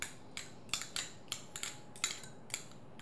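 A fork mixes spreadable cheeses and fromage blanc in a bowl for a courgette and goat cheese terrine, giving about nine light metallic taps in a loose rhythm, faint and close, with no talking.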